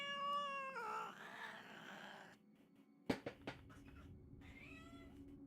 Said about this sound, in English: She's the cat that hates me.